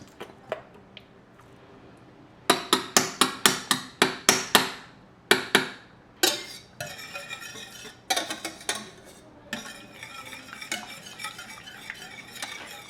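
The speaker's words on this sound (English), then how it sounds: "Whisking that until nice and smooth" Whisk beating Dijon mustard into a cheese sauce for keto cauliflower mac and cheese, metal clicking rapidly against a pot in fast rhythmic bursts with short pauses, close and fairly loud, no talking.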